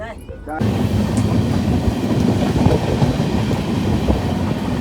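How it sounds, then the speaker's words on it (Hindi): North East Express train rolling out of Anand Vihar, a loud, steady rumble and rattle of the carriages on the rails that starts abruptly and continues throughout. "आनंद विहार से ट्रेन ऑन टाइम निकल चुकी है, कोई देरी नहीं"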